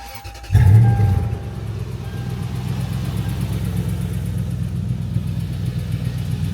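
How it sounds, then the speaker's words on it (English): A Lexus GX470 engine with its exhaust removed, leaving only the catalytic converters, cranks and catches with a loud burst, then settles into a deep, steady, throbbing idle that continues alone. "Let's give it a quick startup to hear it."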